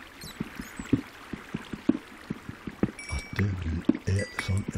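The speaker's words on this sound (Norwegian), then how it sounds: "Av vann som renner." Water flows steadily inside a Minecraft cave, a soft continuous trickle under a regular run of clicking footsteps and scattered game effects toward the end.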